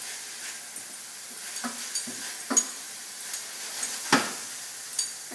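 Chuck steak browning in a pan for borscht, a soft steady sizzle with a few sharper spits and clinks of stirring scattered through, fairly quiet and without talk.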